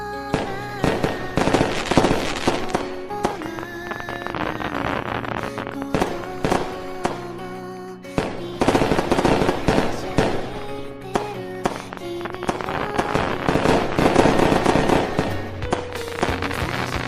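Fireworks in the Sakura School Simulator video game during a New Year scene, a dense run of repeated crackling bursts and pops, loud and continuous, with music-like tones mixed underneath.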